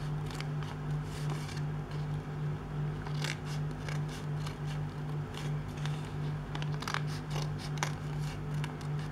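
Scissors snip through suit fabric while cutting out a sleeve strip, giving a string of short, crisp cuts at an uneven pace over a steady low electrical hum.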